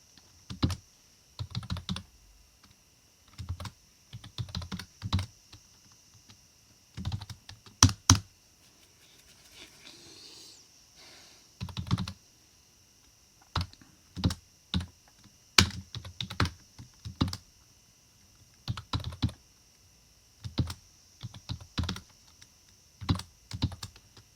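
Bursts of typing on a computer keyboard, fast clustered keystrokes with short pauses between runs, close and clear with no talk.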